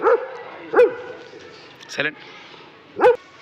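A dog at a hospital barks three times in short, sharp yaps spaced about a second apart, close by, with a brief spoken word in between.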